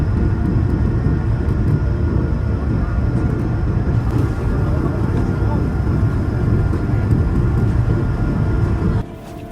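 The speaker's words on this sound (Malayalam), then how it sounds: "അങ്ങനെ മേഘങ്ങളെ കീറിമുറിച്ചുകൊണ്ട് നമ്മുടെ ഫ്ലൈറ്റ് ഉയരം എടുത്തുകൊണ്ടിരിക്കുകയാണ്." A passenger airplane climbs through cloud after takeoff from London, its loud, steady cabin engine roar droning evenly before dropping off sharply near the end.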